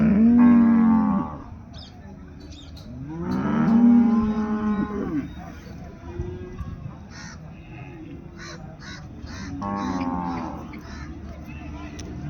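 Cattle, including buffalo, bulls and native cows, low in long mooing calls three times at a rural livestock market in Erode, with crows cawing and faint voices between the calls.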